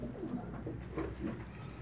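Domestic pigeons coo softly nearby in a loft, with a few low, rolling calls repeating over a quiet background.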